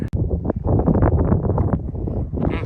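Gusty storm wind buffets and roars across the microphone at a mountain wild camp beside a Lanshan tent, a continuous low rumble, with a sharp knock at the very start.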